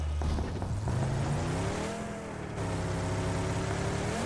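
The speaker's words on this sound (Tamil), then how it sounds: "லெஃப்ட்ல வண்டி வருது." Vehicle engine in the battle-royale game PUBG, a steady loud motor drone with rising and falling pitch as it approaches, continuous throughout with no talk.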